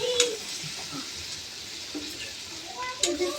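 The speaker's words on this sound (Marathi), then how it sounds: "अजून एकदा चांगलं मिक्स करून घेऊ." A monsoon leafy-greens bhaji is stirred and mixed in a pan, a low continuous sizzle with soft scraping strokes and a few sharper utensil knocks.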